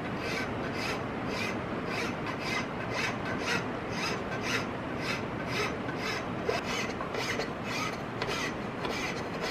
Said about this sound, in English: Using my safe-sided file here.